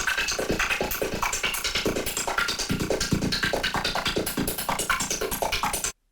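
A gritty particle loop triggered at C3 in a sampler gives a dense, loud crackling texture with rapid, regular pulsing bursts, then cuts off abruptly.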